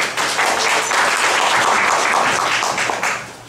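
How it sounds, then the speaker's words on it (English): Loud, dense applause from an audience at a primary teaching postgraduate course event, sustained clapping that holds steady for several seconds before tapering at the end. "big round of applause now, please."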